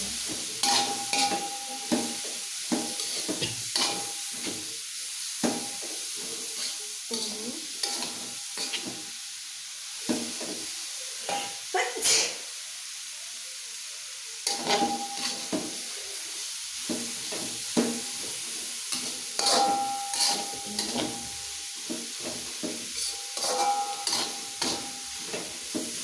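Spice paste for a yellow fish curry sautés in a pan, with a soft sizzle broken by repeated spatula scrapes and knocks in an uneven rhythm, close and moderately loud.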